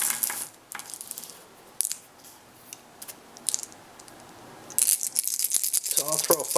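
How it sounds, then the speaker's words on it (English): Five dice for the board game Age of Steam rattle and clatter in bursts across a table, louder toward the end, with a voice talking at times. "So I'll throw 5 dice."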